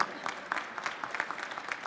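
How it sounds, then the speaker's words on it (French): Audience applause for a third-place winner at a chocolate competition awards ceremony, a quiet, sparse patter of clapping hands from a modest crowd, lasting under two seconds. "On peut l'applaudir, Jessica, une nouvelle fois"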